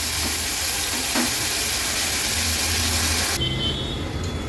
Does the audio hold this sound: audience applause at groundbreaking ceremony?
no